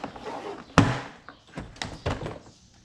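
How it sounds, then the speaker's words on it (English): A rear door trim panel on a 2011-2018 Ford Fiesta is pried from its clips, giving one sharp loud pop followed by several softer snapping thunks close by, with no talking. "you can take that door panel off like that"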